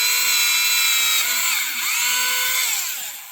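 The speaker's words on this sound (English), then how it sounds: "and it just drills right on through" A Tamiya electric Handy Drill bores through composite plywood, its high-pitched motor whine steady and close, dipping in pitch as the bit loads up midway, then recovering before slowing toward the end.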